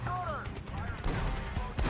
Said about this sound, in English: German Pak 40-75s, high velocity cannon shoot through that armor like butter.